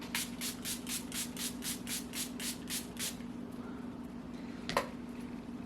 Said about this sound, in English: it's a continuous setting spray